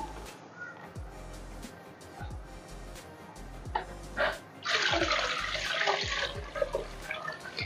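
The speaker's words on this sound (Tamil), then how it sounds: "ஸோ தண்ணி வந்து கொஞ்சம் ஆட் பண்ணிக்குவோம்." Water poured into an aquarium sump filter holding ceramic ring media, a steady splashing pour that starts midway and runs on, with a few clicks and handling knocks before it.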